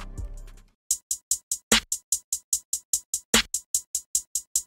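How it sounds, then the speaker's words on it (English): Metallic-sounding hi-hats in a gritty trap beat, a rapid, even run of crisp ticks, joined twice by heavier snare-like hits, after a brief low tonal tail at the start. "I went for like a little bit more of a metallic sounding hi-hat"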